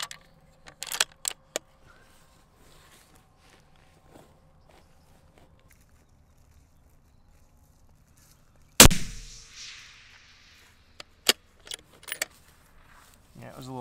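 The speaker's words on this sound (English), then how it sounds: "We'll go ahead and fire another couple shots down there and see what we get." A 6.5 SAUM rifle during load development fires a single loud, sharp shot partway through, followed by a fading ring, with scattered clicks, handling noises and brief talk before and after.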